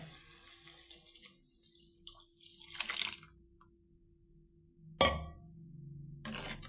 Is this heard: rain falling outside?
no